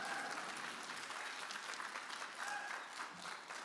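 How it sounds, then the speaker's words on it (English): An audience claps steadily for a team at a Starbucks Catalyst event; dense, even applause that stays fairly faint and distant throughout, with no voices over it. "can we just give my team a huge applause"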